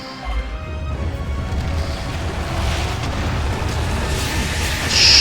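A propane tank blows up in Gears of War, a heavy booming blast with rumbling low crash and debris that keeps roaring loudly through the whole stretch and swells again at the end.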